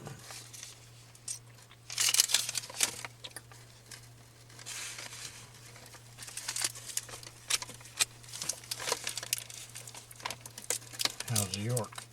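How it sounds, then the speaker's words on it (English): Crinkling and rustling of lunch wrappers and paper trash being crumpled in bursts, close by, with a steady low hum underneath. "That noise you hear is Larry cleaning up the trash from lunch"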